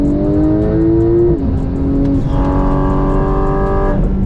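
A Porsche sports car pulls hard through third gear, its engine note climbing steadily in pitch, dipping briefly, then rising again. The loud, continuous roar stands alone with no talk.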